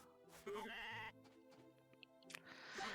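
A sheep from the farming video game Story of Seasons: A Wonderful Life gives a few clear synthesized bleats, close and distinct, with short game chimes between them.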